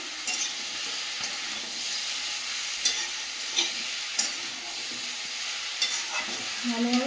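Winter vegetables with green chillies being sautéed in a pan: a soft, steady sizzle broken by a few sparse clicks of stirring, fairly quiet and without speech.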